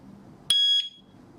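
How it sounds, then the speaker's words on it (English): A Chuango WS105 strobe siren gives its record cue tone during pairing: one short, bright electronic beep, clear and alone over a faint background hiss. "we press the connect button on WS105, wait for the record cue tone"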